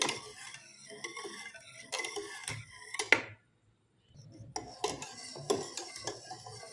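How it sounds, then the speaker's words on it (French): A spoon stirs orange mousse mixture in a pot on a stove over medium heat, with repeated scraping and clinking strokes, a brief silent pause, then more stirring close by. "Je mélange et j'attends que ça épaissit."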